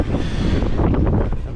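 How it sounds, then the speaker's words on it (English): Strong gusting wind above 20 knots at sea buffets the microphone in a steady broadband roar, with rushing air and possible water noise underneath, loud and continuous. "it's pretty wavy and pretty windy, above 20 knots"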